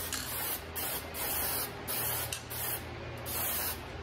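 Spray gun painting a car body panel for blending, with bursts of loud hissing spray repeated about every half second to second, steady and close, without talk.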